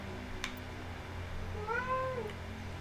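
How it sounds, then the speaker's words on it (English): A cat gives one drawn-out meow partway through, rising then falling in pitch, against a quiet low hum. "If y'all hear any meowing, that's just my cat."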